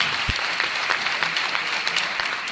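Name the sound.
audience applause at a poetry event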